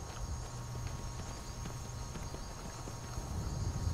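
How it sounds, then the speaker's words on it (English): Horse hooves clip-clop steadily in Skyrim, a continuous run of close, even hoofbeats over a constant game background hum, with no talking. "Let me park my horse somewhere safe."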